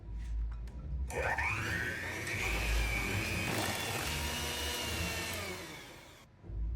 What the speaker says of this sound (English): Now we're gonna beat this on medium-high speed until it's well combined.